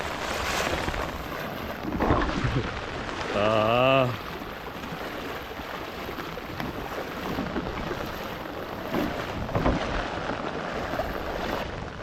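Monsoon floodwater in Konkan surges with strong pressure across a flooded road, giving a steady broad roar; a short warbling tonal sound rises over it briefly near the start, then the rushing continues alone.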